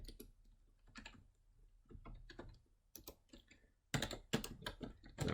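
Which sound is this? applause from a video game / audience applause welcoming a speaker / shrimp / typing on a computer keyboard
typing on a computer keyboard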